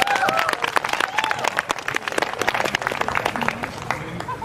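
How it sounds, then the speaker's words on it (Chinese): Dense applause from a concert audience in a hall, many hands clapping steadily and close for several seconds, with a few faint voices mixed into the crowd. "好，来我们掌声邀请他们"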